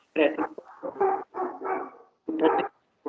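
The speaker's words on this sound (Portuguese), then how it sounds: "Tem um cachorro latindo aí." A dog barks in several separate bursts in the background of an online mathematics lecture, fairly close and distinct, with short gaps between the barks.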